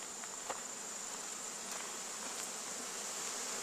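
Honey bees buzz around Langstroth hives in Tasmania in a steady, faint, close hum with no other sounds.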